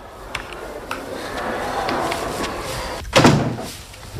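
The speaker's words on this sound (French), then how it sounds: "Fermez cette porte." A door closes near the end with a solid thud, after a stretch of soft indoor room noise and faint handling clicks.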